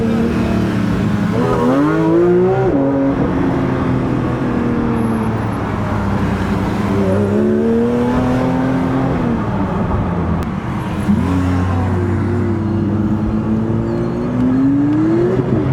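Porsche GT3 RS engine accelerating on a sunny road with a friend's car, a loud steady roar with rising and falling harmonic sweeps as revs climb and shift, voices talking over it.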